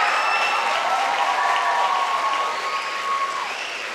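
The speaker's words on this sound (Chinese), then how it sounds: "请大家再给杨教授一个热烈的掌声。" A crowd gives warm, sustained applause for a professor at a Malaysian Chinese orchestra competition award ceremony, the clapping steady throughout and tapering slightly near the end.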